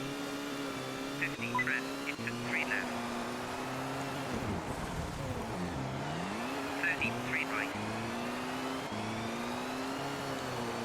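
Rally car engine in Colin McRae Rally 2.0 on a snowy stage with spike tyres, droning steadily with repeated gear-change dips and revving swells, plus brief tyre squeals, at moderate level with no talk.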